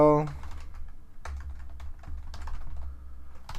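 Commands typed on a computer keyboard give light, scattered key clicks, close and fairly soft, after a brief voice at the start.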